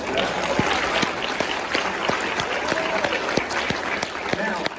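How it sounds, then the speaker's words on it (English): Steady, sustained applause fills a hall at a symphonic winds winter concert, an audience clapping continuously for several seconds, with faint voices underneath. "Round of applause for that."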